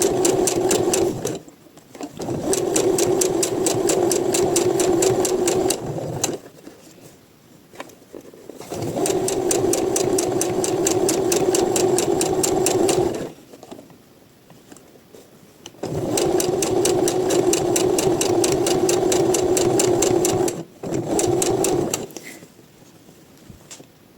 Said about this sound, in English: I am now sewing under arms, the sleeve here, so I am just sewing it with a straight stitch.